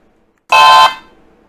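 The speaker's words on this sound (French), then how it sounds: "c'est le klaxon." A toy Ford Gran Torino Starsky and Hutch model car sounds its horn in one short, loud electronic honk lasting about a third of a second, with a brief fading tail and quiet background before and after.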